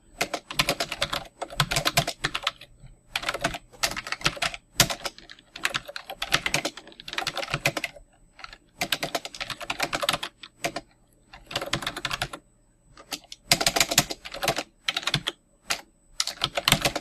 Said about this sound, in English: We're going to type in a description of what this function does.